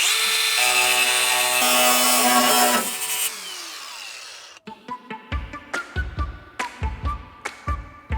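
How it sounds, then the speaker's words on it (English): An angle grinder cuts through tub brackets on a Land Rover Defender, a loud sustained whine that drops away halfway, followed by a string of sharp metallic knocks and clanks, with no talk. "So we just need to get the grinder on this one, and the one at the other side"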